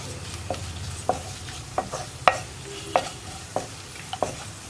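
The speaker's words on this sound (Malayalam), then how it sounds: "ഇനി പൊടികളൊക്കെ കുക്കായി വരുന്നത് വരെ ലോ ഫ്ലെയിമിൽ വെച്ചിട്ട് ഇളക്കി കൊടുക്കുക." Spice powders for chana masala fry on a low flame while being stirred, sharp spoon scrapes against the pan landing roughly every half second over a soft, quiet sizzle, close by and without voices.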